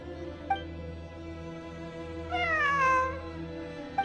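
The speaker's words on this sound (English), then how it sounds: "I'm not hearing things. It really is a cat." A cat meows, with a short chirp near the start and a longer, drawn-out wavering meow in the middle over a quiet, humming background, fairly close and clear, no talking.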